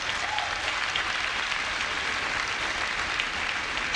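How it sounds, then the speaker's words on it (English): Steady applause from a large audience of new students at a Rutgers University-Newark convocation, dense, even clapping filling the hall for several seconds without talk. "Give yourselves a round of applause."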